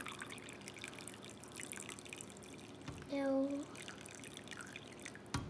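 Hot water from a kettle trickles and pours into a measuring jug while making roasted orzo in a kitchen, a steady low liquid flow with a brief louder pour in the middle and a short spoken word.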